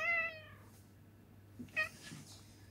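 Cat meowing: one clear, tonal meow up close at the start, then a quieter, shorter second meow after a pause, with faint room noise between.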